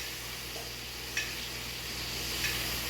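Butter sizzling around a steak in a cast iron skillet on medium heat, a faint, steady frying hiss with a couple of soft clinks, no voices.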